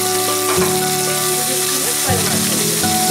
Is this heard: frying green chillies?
yes